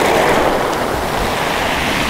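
Sea waves break and wash around rocks on a beach, a close, loud, steady hiss and roar with light wind noise across the microphone and no talking.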